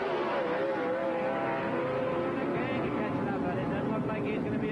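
At a 1979 NHRA Division 6 drag race in Edmonton, Alberta, a dragster and a car roar down the strip in a loud, sustained engine drone with rising revs, under an announcer's commentary.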